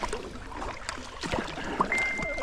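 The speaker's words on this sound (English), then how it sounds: "I am paddling again" Soft paddle strokes and water splashes from a kayak moving down a shallow creek between Gnesta and Vagnhärad, faint and irregular, with a bird call near the end and no talk.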